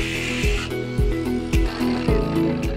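A power saw cuts a wooden board with a steady whining drone. Sharp thuds or bites recur about every half second. The sawing is close and fairly loud, with no talk.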